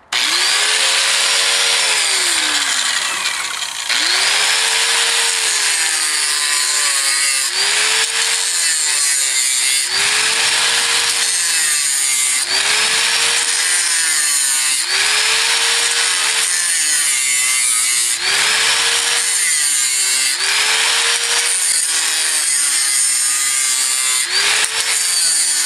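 A grinder cuts open a car part with a loud, continuous abrasive screech, its pitch dipping and rising in repeated strokes for nearly half a minute, with no voices.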